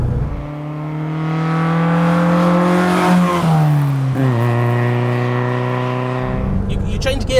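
A Lotus Elite Type 14 sports car's engine drones loud and close, its steady pitch sliding down twice as gears are changed, then rising again toward the end, with the driver's voice mixed in.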